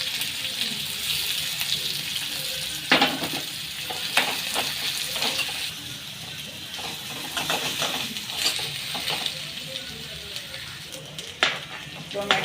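Chopped onion sizzling in a pan of hot oil with cumin, mustard seeds, garlic and curry leaves, a steady fry with clinks and stirring scrapes of a spoon, plus some running water nearby.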